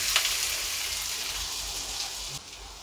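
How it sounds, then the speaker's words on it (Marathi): Cumin seeds and onion frying in hot oil in a home kitchen pan, a steady close sizzle and crackle that runs throughout, dipping slightly near the end. "तेल गरम झालेलं आहे, जिरा टाकले 1 चमचा। जिरा फुलल्यानंतर आपल्याला टाकायचा आहे कांदा"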